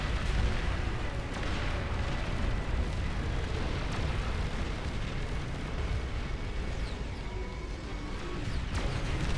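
Pawn launchers fire and shells burst in a massive battle in the real-time strategy game Beyond All Reason, a thick, continuous rumble of booms and blasts with scattered sharper cracks layered over it.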